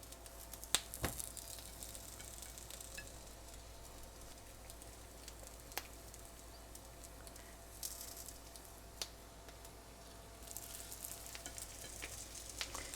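Maggi veg patties frying in hot oil make a faint, quiet sizzle with a few sharp isolated pops and clicks scattered across it, and the hiss swells slightly near the end.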